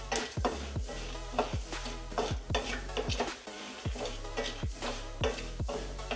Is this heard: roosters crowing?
no